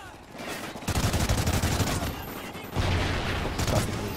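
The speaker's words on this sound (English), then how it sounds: "Who's shooting me?" Rapid, dense gunfire from the video game Call of Duty Ghosts crackles in sustained bursts with brief dips between them, loud and close throughout.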